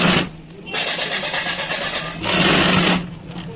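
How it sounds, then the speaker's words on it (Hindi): A sewing machine stitches pant fabric in two bursts of rapid whirring needle rattle, with a pause between them. The sound is close and loud, and a voice talks over it. "तो हम इस पर सिलाई कर लेंगे।"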